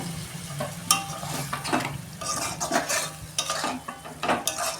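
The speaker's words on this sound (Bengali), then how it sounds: "আমি ঢ্যাঁড়সটা দিয়ে দিচ্ছি। এটা আমি গরম জল দিচ্ছি" Okra cooking in a pan in a home kitchen as a little hot water is added, steady sizzling broken by clattering stirs and scrapes of a utensil against the pan, close and irregular.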